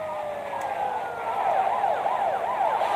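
A police siren in the video game GTA Vice City Stories wails and yelps in rapid repeating sweeps, fairly close and growing slightly louder over a low in-game background hum, with no voices.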